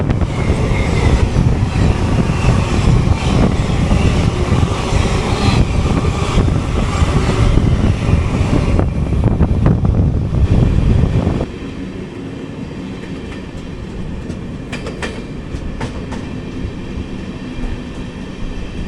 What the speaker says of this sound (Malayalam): എറണാകുളം കണ്ണൂർ ഇൻ്റർസിറ്റി എക്സ്പ്രസ് ആണ്.